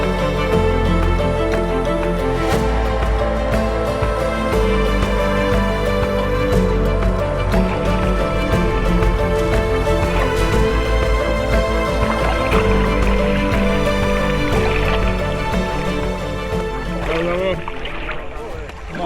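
A pedal kayak moving upstream on a river at Lake Pliva in Bosnia and Herzegovina, a steady close wash of water and hull sounds running throughout under continuous background music or noise.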